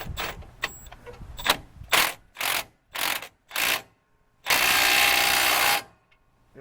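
A hand ratchet on a Dana 60 axle snugs down 22mm and 18mm bolts in several close, sharp clicking bursts, then one longer continuous stretch of ratcheting before it stops.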